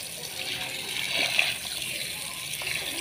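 Water from a household pump motor gushes steadily into a tank or sink at home, a continuous hissing flow close by with faint voices in the background.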